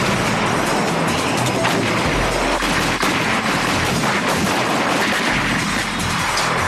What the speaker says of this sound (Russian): Для контроля 3 снаряда, 30 секунд. Выстрел, огонь.